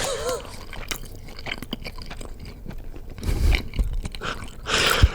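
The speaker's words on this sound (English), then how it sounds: "they're going to chew right on mic" Close-miked chewing of sushi, with wet crunching and biting bursts that swell louder toward the end.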